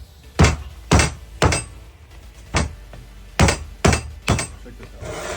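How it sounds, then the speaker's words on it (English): Hammer blows knocking bands off CV boots on a car axle during an RX-7 FD axle swap, eight sharp metallic strikes in an uneven rhythm, loud and close, with no voices. "force from a hammer works"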